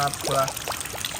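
Rainwater pours down in a steady rushing splash, with voices talking over it.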